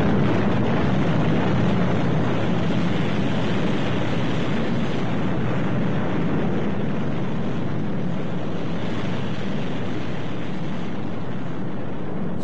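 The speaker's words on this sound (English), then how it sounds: "Thrust checks minus 5, 4, 3, 2, 1. Ignition." A rocket engine ignites in a LEGO Thunderbirds Sun Probe launch scene, producing a continuous, loud, broadband roar that holds steady without a break.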